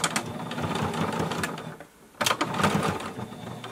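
A sewing machine back tacks a seam on a fabric face mask with a nose panel, stitching in steady rapid bursts close by, pausing briefly near the middle before running again.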